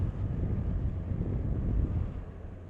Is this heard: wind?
yes